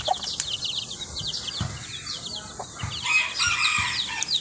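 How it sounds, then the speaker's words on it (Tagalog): Native chickens with a flock of chicks, about fourteen birds in all, chirp steadily in high peeps alongside occasional hen clucks and soft low thumps, moderately close and continuous throughout. "mga native chicken, mga native na sisiw."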